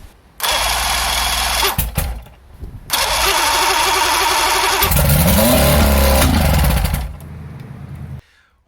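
A loud speedboat outboard engine cranks and catches, roaring steadily for several seconds, dropping briefly, then revving up again before winding down.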